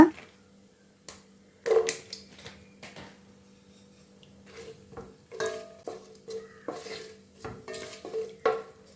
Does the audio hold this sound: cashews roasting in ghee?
yes